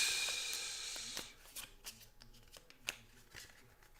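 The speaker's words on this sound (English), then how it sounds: "I'm going to shuffle up our deck." A deck of game cards for the Sentinels of the Multiverse board game being shuffled by hand, a rapid riffling flutter at first, then scattered soft taps and snaps of cards settling, close and fairly quiet.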